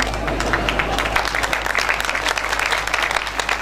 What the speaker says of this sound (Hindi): इन तालियों से हमारे कान कभी भी संतुष्ट नहीं होते